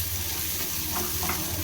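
Onion, garlic, tomato and green chillies sizzle steadily in a hot pan, a continuous close frying hiss with faint stirring scrapes throughout.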